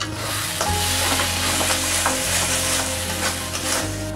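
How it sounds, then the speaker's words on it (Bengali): Spice paste for a chicken curry sizzles loudly and continuously in a pan while being stirred. Repeated scraping strokes sit under the steady frying hiss, with a low hum running beneath. "এবার ঢাকনাটা সরিয়ে নিয়ে মশলাগুলো আরেকবার ভালো করে"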